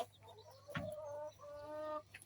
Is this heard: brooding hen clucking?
yes